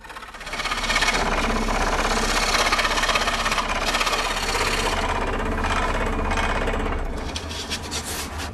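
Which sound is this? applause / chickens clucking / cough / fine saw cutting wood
fine saw cutting wood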